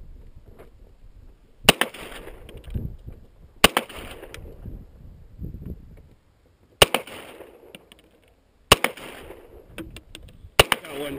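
Sharp, loud gunshots from a 9mm Beretta pistol ring out at an outdoor range, five spaced reports at irregular intervals, each with a short echoing tail, and faint background noise between shots.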